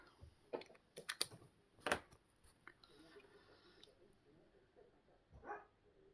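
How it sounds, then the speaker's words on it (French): A dog barks indoors, a few sharp barks near the start and another about two seconds in, with a faint one near the end, set against quiet room sound and light tapping. "vous avez entendu mon chien, je pense"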